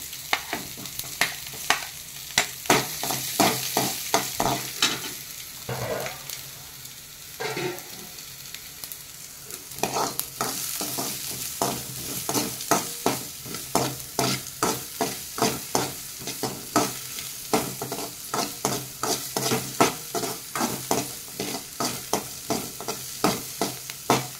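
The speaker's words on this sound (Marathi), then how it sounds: "कांदा सोनेरी रंग येईपर्यंत परतत राहायचा।" Onion stir-fried in oil for pumpkin bhaji, with a constant crackling sizzle and a rapid, regular series of spatula scrapes against the pan, close and clear, with no voices.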